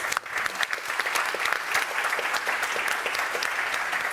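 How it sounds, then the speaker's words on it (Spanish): An audience at a film industry book talk in Sitges breaks into sustained, even applause, a dense wash of many hands clapping for several seconds with little else over it. "Le pido un aplauso a Carmen, que está aquí presente"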